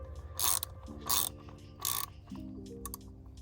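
Ratchet wrench snugging spark plugs in a BMW B46/B48 four-cylinder engine, several quick bursts of clicking pawl strokes close up, with short pauses between them and no talk.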